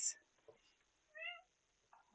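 A cat gives a short, tonal meow in the middle of a quiet room, fairly faint and close, with a few small scattered noises around it.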